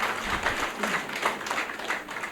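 An audience at a town hall welcome for a visiting delegation and mayor claps steadily, a moderately loud round of applause with no clear speech over it.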